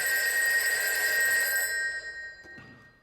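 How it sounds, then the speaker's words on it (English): A telephone rings in a TV episode with a bright, continuous electronic bell tone that stops after about two seconds, leaving a quiet room with a faint knock. "How can the fucking phone be ringing?"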